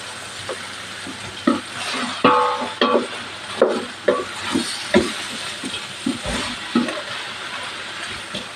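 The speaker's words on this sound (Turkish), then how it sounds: "Şimdi patlıcanla ilave ediyorum. Patlıcan da şöyle bir yağ ile alazlansın arkadaşlar." Eggplant fries in hot oil in a pan with peppers already cooked in, a loud continuous sizzle and hiss broken by repeated stirring scrapes and clatters.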